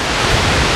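Velo de Novia waterfall at El Chiflón pours as a loud, steady broadband roar, close by and continuous, with no voices.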